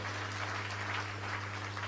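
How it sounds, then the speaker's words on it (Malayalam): A church congregation claps hands in thanks, a brief, dense patter of applause over a steady low hum. "കൈയടിച്ച് നന്ദി പറയാം"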